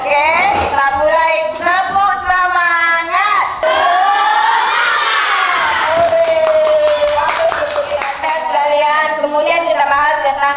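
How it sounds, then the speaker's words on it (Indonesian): A class of children chanting together with rhythmic clapping, voices loud and close, running continuously with shouted syllables over sharp hand claps. "Oke, kita mulai tepuk semangat."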